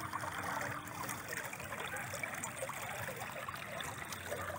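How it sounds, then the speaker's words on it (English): Floodwater from an overtopping dam flows down through a flooded field as a steady, fairly faint broadband rush with no pauses and no voices. "look at this water coming down through here"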